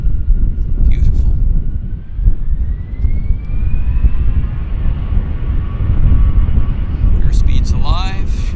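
An Air Canada A321 bound for Toronto starts its takeoff roll at Vancouver airport, with a loud, steady jet engine roar and a rising whine as thrust builds. Wind noise rumbles underneath, and a voice speaks briefly.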